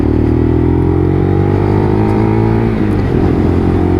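A Lexmoto LXR SE motorcycle engine drones steadily while being ridden, a close, continuous hum with harmonic tones that dip and shift slightly near the end as the revs change, no voices present.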